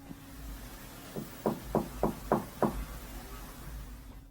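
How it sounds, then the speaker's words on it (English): Six evenly spaced knocks on a painted-over door, moderately loud and close, rapping in a steady polite but urgent rhythm over a low background hum. "The knocking sounds polite yet urgent, definitely human."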